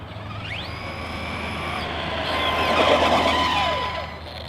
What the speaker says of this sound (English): I think my clutch is slipping too. I can hear it slipping.